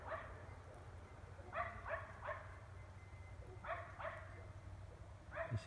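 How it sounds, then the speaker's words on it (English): A dog barks at night in short bursts of two or three, moderately distant, over a steady low hum of background noise, in Emmett, Idaho. "And that barking is loud enough."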